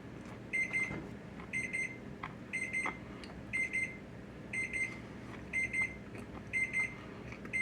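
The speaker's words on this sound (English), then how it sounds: "You hear my timer going off." A kitchen timer alarm beeps in repeated bursts of rapid electronic tones with steady short gaps, moderately loud over a low kitchen background hum.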